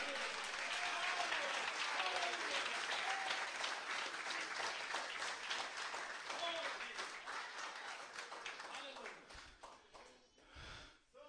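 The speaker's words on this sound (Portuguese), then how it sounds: "Palmas para o Senhor Jesus" A church congregation claps together in steady, dense applause that fills the room, gradually thinning out toward the end with a few last claps.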